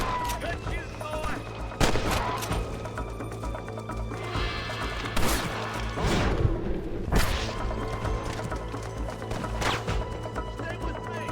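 Gunfire in a Red Dead Redemption shootout: several sharp, loud shots crack out at irregular intervals over a busy game soundscape with a steady droning bed, and voices can be heard in the mix.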